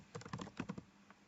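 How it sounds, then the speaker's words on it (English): A computer keyboard typing a search entry in ServiceNow, a fast run of about eight crisp close keystrokes in two short bursts, then a lone tap, with no one speaking. "Click on All and type Service Portal."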